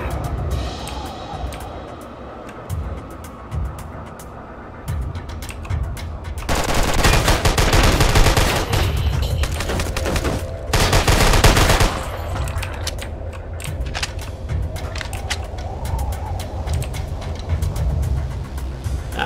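Rapid automatic gunfire in a first-person shooter video game: dense, loud bursts of rattling shots in two long stretches, with sporadic single shots and battle noise around them.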